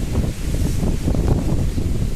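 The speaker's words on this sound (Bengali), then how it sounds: "রেমাল ঝড়ে প্রচুর ক্ষয়ক্ষতি হয়েছে আমাদের দিকেও দেখো দেখো হাওয়া কীরকম" Strong gusts of cyclone wind during Cyclone Remal roar steadily into the microphone outdoors near open fields, a loud, continuous buffeting rumble with no voices.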